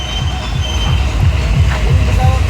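A toy train ride at Deul Park, an amusement park, rolls past with low rumbling and faint wheel squeals, amid a busy crowd of voices.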